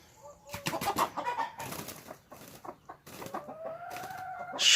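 Backyard hens clucking and squawking in short irregular bursts, fairly close, with a longer drawn-out call near the end and some flapping.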